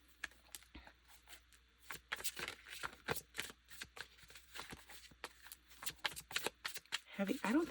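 Tarot cards being shuffled by hand during a love-life card reading, a steady run of soft riffling and slapping flicks, close and fairly quiet, with no speech over it.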